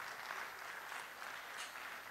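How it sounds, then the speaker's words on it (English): An audience at a medical college's annual general meeting claps steadily, a soft, even wash of many hands heard from some distance. "Please, let's clap until she collects the microphone."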